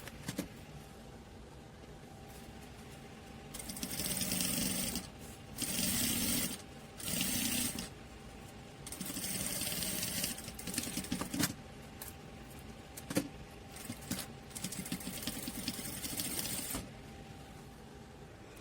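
A sewing machine stitches a waterproof plastic bag for cloth diapers, running in several separate bursts of steady mechanical whirring with short pauses between them.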